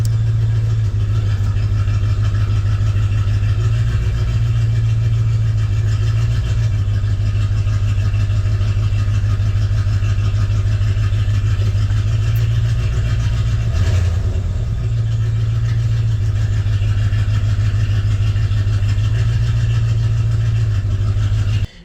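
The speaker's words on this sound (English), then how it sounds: "I'm gonna press the accelerator a couple of times, the gas." A Dodge Ram 1500 second-generation pickup with a 5.9 or 5.2 V8 runs steadily up close, a loud continuous idle with only slight swells as the accelerator is pressed a couple of times.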